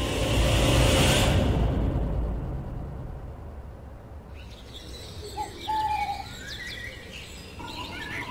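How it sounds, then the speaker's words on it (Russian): Birds chirp in scattered short calls over a steady ambient hiss in the video game S.T.A.L.K.E.R.: Lost Alpha, after a loud rushing burst fades away at the start. "Птицы сразу появились."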